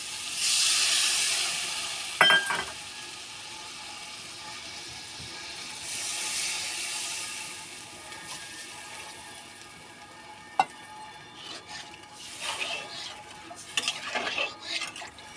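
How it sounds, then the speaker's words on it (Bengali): Tilapia fish curry under way on a home stove: water poured into spice paste that has been fried down, with a broad hiss and sizzle, the clank of a spoon on the pan, and stirring that scrapes the pot. "মশলাকে ভালো করে কষিয়ে নিয়েছি এবার জল দিয়ে দেবো"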